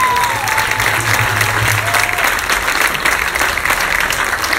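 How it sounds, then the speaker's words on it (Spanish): Audience applause greets a Spanish-language ranchera singing gathering, dense steady clapping from a crowd filling the whole stretch, with a little voice and a brief tone sounding under it. "Un aplauso para todos nosotros."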